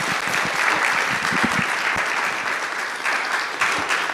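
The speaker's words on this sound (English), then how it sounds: "let's give them another round of applause for these artists" Sustained audience applause for the artists at a legacy-themed event, dense steady clapping from a crowd filling the room without pause, moderately loud and close, with no talk over it.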